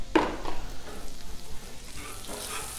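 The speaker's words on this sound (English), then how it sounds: "I'm gonna put a little bit more butter down so we get a nice toast on the other side" Butter sizzling on a Blackstone flat-top griddle while cooking an omelette in a hole, a close, steady crackling hiss with a sharp tap at the start.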